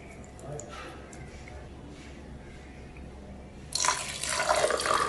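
Water splashes and streams loudly into a container for the last second or so, after a stretch of quiet room noise, while making sarbath, a lemon drink.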